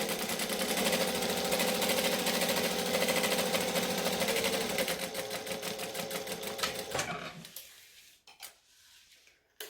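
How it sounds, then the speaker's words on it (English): A sewing machine stitches forward and then back-stitches, a fast, steady mechanical rattle that runs for about seven seconds, then stops, leaving a few faint clicks and handling sounds. "So then we're going to stitch and back stitch."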